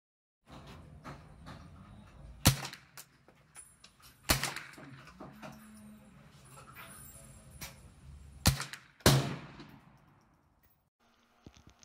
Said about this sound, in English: So the first rifle that he shot was a 22 by Smith and Wesson.